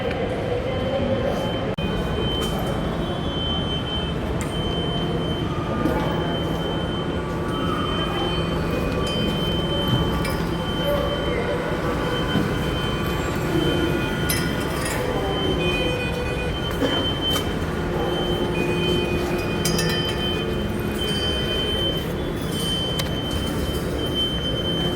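A metro train runs at Aluva station, a steady loud rumble of wheels and motors with occasional metallic squeals and hums filling the platform throughout.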